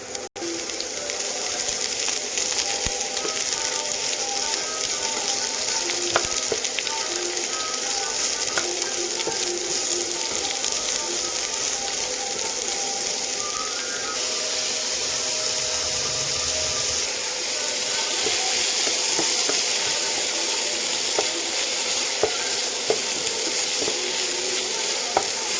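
Bottle gourd pieces for a chutney fry steadily in a hot pan, a continuous close sizzle broken by occasional scrapes of a stirring spoon against the metal for the whole stretch.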